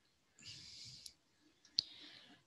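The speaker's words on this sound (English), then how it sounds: "I'm not used to using my keyboard." Computer keyboard clicks, quiet and close, in a few short bursts with sharp individual keystrokes and small gaps between them.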